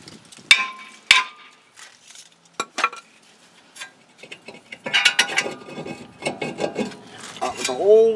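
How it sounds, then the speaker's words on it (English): A hammer strikes a rusty front brake rotor on a 2004 Honda Accord, sharp metallic clanks at irregular intervals with lighter clinks and scraping between blows. "Hit it with the hammer."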